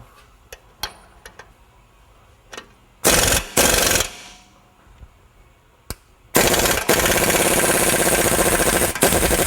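Power tool spinning off the lower shock mount bolt on a Nissan Xterra, heard as a few sharp clicks followed by loud, close, rattling impact bursts, with a long sustained run at the end.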